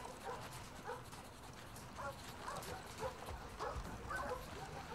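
A dog in The Last of Us Part 2 gives repeated short barks and whimpering yips in a steady rhythm, close and fairly loud over a constant background hum.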